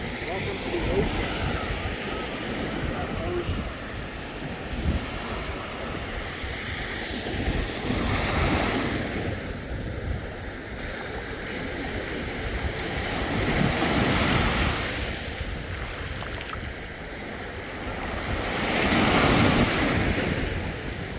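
Ocean surf rolls onto the beach at Anna Maria Island, Florida, with several swelling wave surges that rise and fall. Steady wind buffets the microphone throughout.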